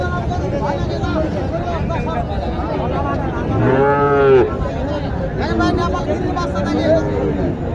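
Cattle market at Mataji Haat in Naogaon, where a Gir-Sahiwal cross heifer calf gives one loud, drawn-out moo midway through, heard over constant crowd chatter and babble.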